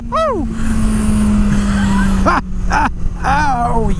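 A Suzuki GSX-S1000 motorcycle accelerates hard in second gear with a loud, steady engine roar that climbs in pitch through each gear, with two brief breaks between pulls. Excited shouts come in over the engine.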